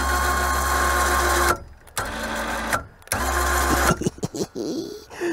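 Remote-controlled electric winch mounted on a kei truck runs with a steady loud motor whine, stopping and restarting in several bursts, then gives way to scattered clunks and movement.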